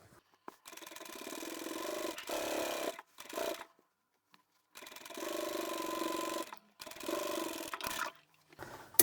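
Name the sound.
sewing machine stitching a scrap fabric tablet pouch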